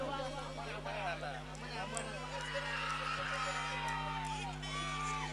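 Spectators at a cricket tournament semi-final roar and cheer just after a six is struck, a dense, steady crowd noise filled with shouts and whoops, with voices talking over it throughout.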